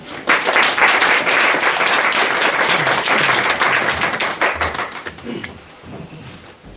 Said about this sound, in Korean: 반갑게 또 박수까지 쳐주셔서